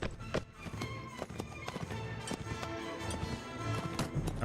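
A horse archer's mount gallops in Mount & Blade Warband, its hooves pounding in a fast, steady clip-clop rhythm up close, with a brief whinny and battle noise underneath.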